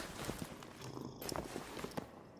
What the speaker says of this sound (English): What is the purring sound?